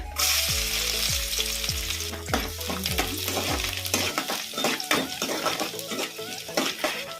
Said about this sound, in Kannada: ಈಗ ಫಸ್ಟ್ ಸಣ್ಣದಾಗಿ ಕಟ್ ಮಾಡಿ ಇಟ್ಕೊಂಡಿರೋ ಬೆಳ್ಳುಳ್ಳಿನ ಹಾಕ್ಬಿಡೋಣ